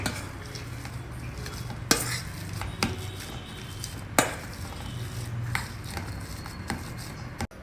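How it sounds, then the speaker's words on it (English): Boiled, peeled potatoes being mashed in a bowl: a steady soft scraping and squishing, broken by a few sharp clacks of the utensil against the vessel, with no talking. "First, we'll mash these potatoes."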